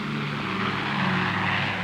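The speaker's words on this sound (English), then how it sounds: "the fighter airplane will depend upon speed and close-to-the-ground flight as protection against enemy fire" Propeller fighter airplane flying low and fast over woods, a steady loud engine drone with a deep throbbing hum that holds close throughout without any pause.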